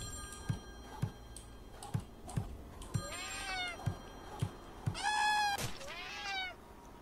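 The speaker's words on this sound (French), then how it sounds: "Là j'ai bloqué le chat en soi." A cat in the Friday the 13th Killer Puzzle video game meows loudly twice near the end, over a steady ticking like a clock that runs throughout.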